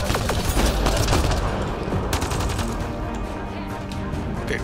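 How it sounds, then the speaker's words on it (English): Rapid bursts of gunfire fill a firefight in the sci-fi video game Mass Effect: Andromeda, dense crackling shots and booms rolling continuously with the clatter up close and loud. "who are you shooting at"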